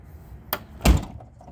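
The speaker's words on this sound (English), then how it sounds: "passenger door is working again" A Mack truck's repaired passenger door: a quick latch click followed by a solid heavy slam shutting, close and loud, with no talking.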